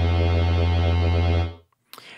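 A Logic Pro Sample Alchemy instrument in scrub mode loops one tiny slice of a sample, giving a steady, buzzing sustained tone that holds evenly for about a second and a half, then cuts off, followed by a faint click.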